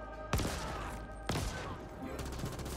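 Gunfire in the video game The Ascent: two sharp, loud shot bursts about a second apart, followed by a rattle of quicker, lighter shots, over a steady game background.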